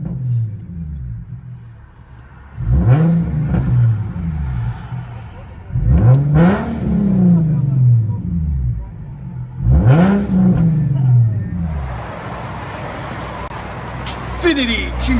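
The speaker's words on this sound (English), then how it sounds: "Infiniti G35x, all-wheel drive. 2-inch pipe, straight piped all the way back." The straight-piped 3.5L V6 of a 2008 Infiniti G35x all-wheel drive with 2-inch pipes, heard from inside the cabin, revs loudly three times and booms as it rises and falls, with a steady idle rumble between the pulls.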